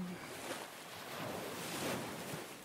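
Waves washing onto a sunny beach with white sand and clear water in summer, a soft steady roar of surf with some wind noise, fairly faint and without talk.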